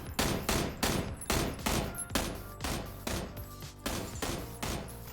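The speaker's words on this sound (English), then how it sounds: "I'm gonna take shots at him." Gunfire in a shooter video game crackles in a rapid series of roughly ten sharp shots, evenly spaced and fairly faint in the mix, with no talking.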